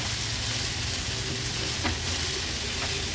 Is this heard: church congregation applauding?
no